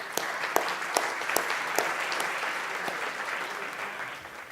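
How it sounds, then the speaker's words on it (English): An audience at the Atlantic Council Freedom Awards ceremony in Wroclaw breaks into applause, a dense, close round of clapping with a few sharp individual claps standing out, tapering slightly toward the end. "So big round of applause for Michał Kubowski."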